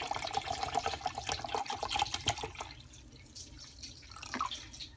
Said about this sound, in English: I'm going to add a whole bottle of water.